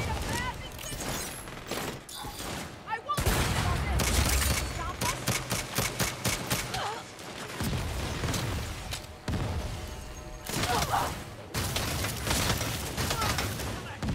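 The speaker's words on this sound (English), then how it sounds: "Damn, this shotgun trash." Shotgun blasts in the Saints Row game: several loud, sharp bursts of gunfire separated by brief pauses, mixed with rapid clattering shots and in-game action sounds, with a player talking over it.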